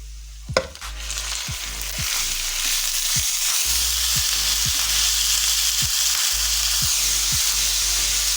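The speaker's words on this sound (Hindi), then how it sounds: "कीमे को इसमें अच्छी तरह फ्राई करेंगे।" Minced meat (keema) drops into a hot pan and frying takes over, a loud, broad hiss and sizzle that holds steady, broken by periodic scraping stirs of a spoon against the pan.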